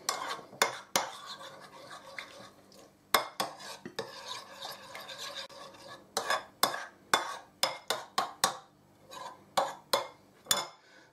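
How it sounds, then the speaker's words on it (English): Mixing tomato-sauced food in a bowl for a 1970s-style dinner party dish: a run of sharp utensil clinks and scrapes against the bowl, bursts of stirring with brief pauses, close and clear, with no talk. "Mix it together."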